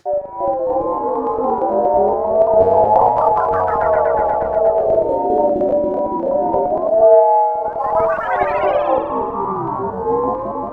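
Granular effect patch built in Bitwig's FX Grid, sweeping and howling like a distorted siren, with pitched grains rising and falling continuously, loud and dense, briefly dropping out near the middle before surging upward again.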